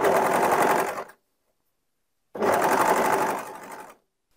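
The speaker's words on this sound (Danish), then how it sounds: "kører en overlock her hen over alle rynkerne" An overlock serger runs over gathered fabric in two steady bursts of close, loud machine whirring, each about a second or more long, with silence between them.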